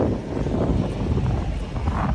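Steady wind buffeting a microphone outdoors on a mild, lightly breezy day around 13-14 degrees, a continuous low rumble with gusty fluctuations and no pauses.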